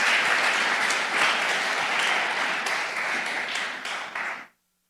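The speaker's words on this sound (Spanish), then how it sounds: "Dale palmas al Señor." A church congregation claps together in praise, a loud, dense burst of applause that holds steady for over four seconds and then stops abruptly.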